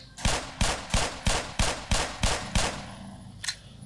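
Eight evenly spaced gunshots ring out in the Black Mesa video game as a player fires at a barrel, sharp loud cracks at a steady rhythm, then a lone fainter shot after a short pause.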